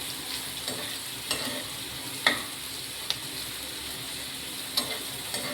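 Home-grown eggplant frying in a pan makes a steady, fairly quiet sizzle throughout, with a few light taps and scrapes from stirring.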